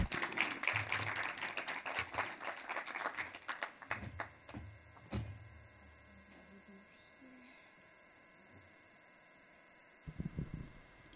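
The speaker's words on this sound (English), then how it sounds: "let's give them all a round of applause" Audience applause at a summit panel on Arab family food culture, a burst of dense clapping that thins into scattered claps and fades to near quiet, with a brief patter returning at the end.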